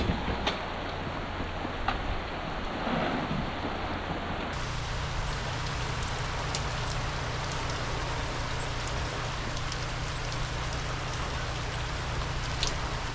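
Rain falls steadily on the deck of a sailboat, a close, even patter and hiss with scattered louder drops, continuing for several seconds without talk.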